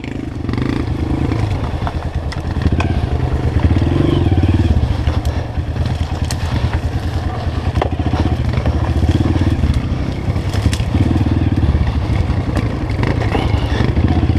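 A loud motorcycle engine idles and revs close by on a dirt trail, rumbling steadily with rattles and clatter throughout.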